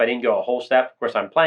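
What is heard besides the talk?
None of the usual background noises is heard.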